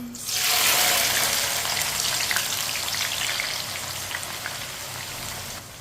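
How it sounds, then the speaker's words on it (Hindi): Chana dal poured into hot oil for namkeen sets off a loud, steady sizzle that bursts in at once, crackles densely close by, then eases slightly while staying continuous, with no voices. "दाल को इसी तरह चम्मच चलाते हुए फ्राई कर लेंगे।"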